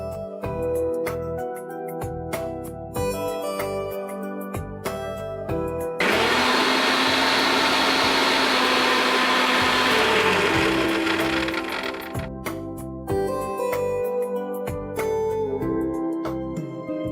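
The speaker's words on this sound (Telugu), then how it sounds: "ఇప్పుడు దీన్ని మిక్సీ పట్టేసుకో." A kitchen mixer grinder blends green chillies with a little water, whirring loudly in a steady high whine for several seconds between shorter start-stop pulses and rattling bursts of the motor.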